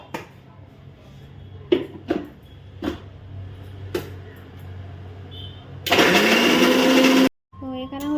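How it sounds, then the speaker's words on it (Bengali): A kitchen mixer grinder blitzes nuts into a coarse paste for homemade kulfi, roaring loudly for about a second and a half after a few scattered clicks, then cutting out abruptly. Light talk is heard around it. "মিক্সিতে একটু গুঁড়ো করে নেবো গুঁড়ো বলতে একটু পেস্ট টাইপে করে নেবো"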